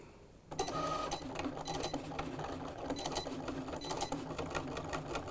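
A Cricut cutting machine cutting material for a laptop decal: a steady, close, whirring motor with rapid rhythmic ticking and stepping clicks that starts abruptly and runs continuously, with no talking.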